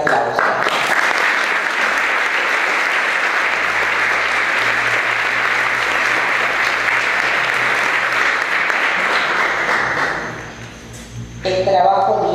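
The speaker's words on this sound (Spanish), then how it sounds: "Brindamos para esta familia un cálido y fuerte aplauso." Audience applause at a school ceremony, warm sustained clapping from a crowd lasting about ten seconds before fading out, followed by faint noise.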